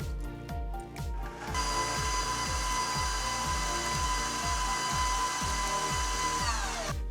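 Stand mixer beats cake batter as coconut milk is added, a loud steady whirring drone with a rhythmic mechanical chug running through it, close and uninterrupted, with no voices.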